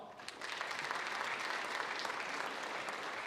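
An audience in a school auditorium claps for student award recipients at a high school awards day, a dense, steady patter of many hands sustained throughout at moderate distance after a brief quieter start.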